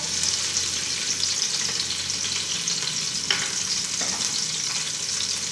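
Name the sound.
onions frying in oil in a pot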